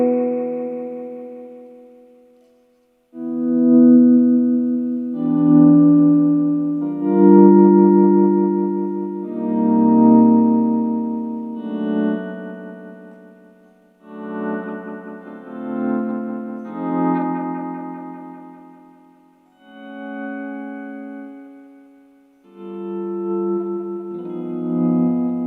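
Guitar notes through an Evans Echopet EV-50 analogue delay with an MN3005 bucket-brigade chip, set high enough to go into oscillation, with swelling, smeared repeats building and fading in waves.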